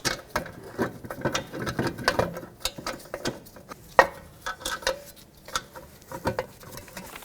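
A hand ratchet clicks in quick bursts while snugging the wheel bearing bolts on a 2009-2015 Toyota Prius rear hub, with rapid pawl ticks, short pauses and occasional metallic clinks, up close and loud.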